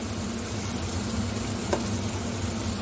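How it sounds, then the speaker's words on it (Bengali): A spice paste of ginger, garlic, onion and green chili frying for khichuri, a steady close sizzle with faint stirring and no voice. "আর এই পাশে আমি ফোড়নের জন্য এই যে মশলাটা আমি কষিয়ে নিচ্ছি।"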